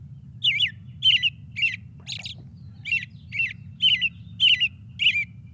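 An American robin sings a series of about nine short, rising-and-falling whistled phrases in a steady rhythm, clear and fairly close, over a low constant background rumble.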